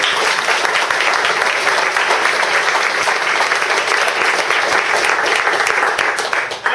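A conference audience at a tech talk on Redis gives a big round of applause, loud, dense and continuous clapping filling the room for several seconds before tapering at the very end.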